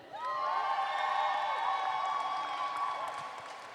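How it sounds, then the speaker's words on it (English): A crowd at a roller derby match between Team Ireland and Team Scotland cheers and whoops for Scotland, a sustained, fairly distant roar of high voices that rises quickly and holds for a few seconds. "let's hear a bit of a cheer for Scotland"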